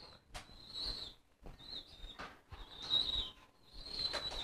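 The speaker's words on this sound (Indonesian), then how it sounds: "Kebetulan di sini ada merpati piyikan nih." A young pigeon beats its wings in several short, rustling bursts close by, with brief pauses between flurries and no talking.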